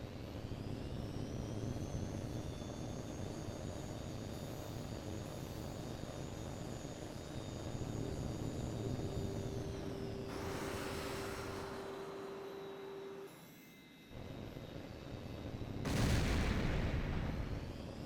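Jet fighters roar through a dogfight with heat-seeking missiles in H.A.W.X. 2, a continuous engine rumble with a rising whine, broken by two loud bursts of missile launches or explosions near the middle and end.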